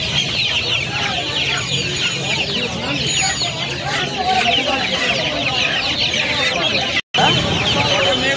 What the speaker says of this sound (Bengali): সোনালি মুরগি। মোরগ মুরগি সব একসঙ্গে রয়েছে।